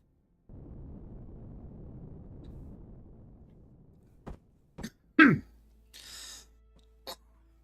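A single person coughs and clears their throat a few times in short, sharp bursts after a stretch of low background rumble, close and fairly quiet overall.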